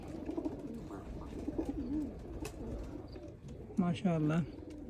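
Pigeons coo inside a breeder's loft, soft repeated throaty calls scattered through the stretch, with a louder, closer burst of cooing near the end.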